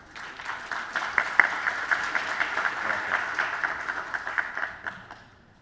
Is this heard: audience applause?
yes